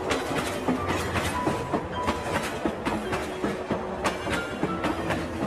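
A train runs along the track in a steady, continuous rumble with a rhythmic clickety-clack of wheels over rail joints, close and fairly loud, with no voices.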